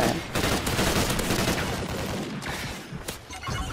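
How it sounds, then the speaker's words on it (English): Suppressed gunfire in the online shooter Call of Duty: Ghosts, a loud continuous barrage of rapid shots and crackling impacts that hardly lets up, with no voice over it. "Wait, where am I getting shot at?"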